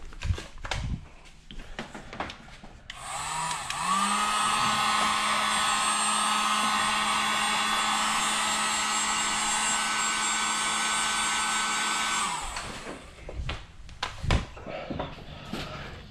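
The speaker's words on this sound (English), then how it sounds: "Heat gun again." A heat gun blows a steady, loud whirring hiss for several seconds while warming a rubber plug on a 2017 Ford Focus RS engine, with small clicks and handling clatter before and after.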